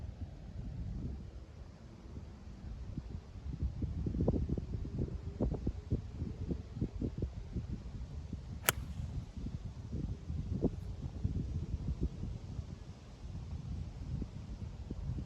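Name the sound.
strong wind blowing on a golf course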